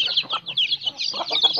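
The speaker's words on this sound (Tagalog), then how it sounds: "paborito kong manok," A white chicken clucking close by on a rural province farm in the morning, a quick run of short, rhythmic clucks with fowl calls layered over them.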